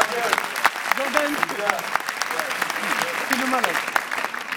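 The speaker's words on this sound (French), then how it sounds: "Applaudissez-les, s'il vous plaît." Audience applause in a small room at a stand-up comedy show, steady clapping from the crowd throughout, with a performer's voice speaking over it.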